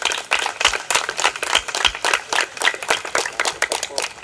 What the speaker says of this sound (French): je vous demande d'applaudir pour Dieu